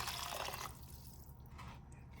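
Water splashes briefly into a paella pan of Spanish rice with shrimp and sausage, a short, fairly close pour lasting under a second before fading to quiet with faint trickles.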